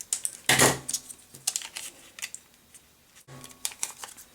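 Scissors snip through folded paper petal strips in a few quick, close cuts, with quiet rustling of paper between snips.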